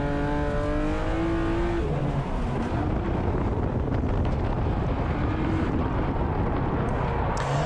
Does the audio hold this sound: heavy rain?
no